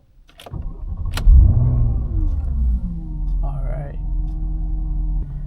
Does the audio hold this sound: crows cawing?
no